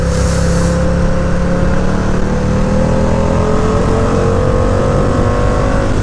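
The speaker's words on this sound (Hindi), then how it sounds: "देखो भाई दो अमेरिकन मसल कार जा रही है, एक जा रही है डॉज चैलेंजर, एक जा रही है फोर्ड मस्टैंग" Two American muscle cars, a Dodge Challenger and a Ford Mustang, drive by with a loud, continuous engine drone whose pitch climbs slowly, heard over steady road and wind rumble.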